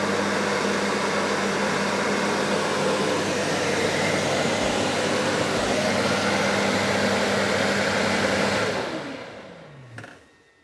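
A Narwal Freo Z Ultra robot vacuum's dust collection station runs with a loud, steady suction roar up close, holding even for several seconds before winding down and falling silent, with a brief click near the end.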